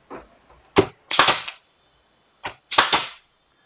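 A DCA pneumatic wood nail gun fires nails up to 50 mm long. Sharp close snaps sound in two groups, each a single shot followed by a quick double, with silence between them.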